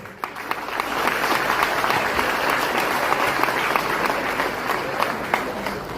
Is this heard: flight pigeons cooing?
no